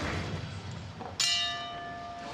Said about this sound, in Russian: и гонг, бойцы расходятся на перерыв.